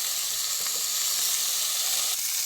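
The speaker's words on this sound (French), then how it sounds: "vous allez prendre les 4 tranches de bacon et les disposer dans la casserole" Bacon slices frying in a saucepan over gas while making homemade cordons bleu, a close, steady, bright sizzle that holds evenly with faint pops and no talk.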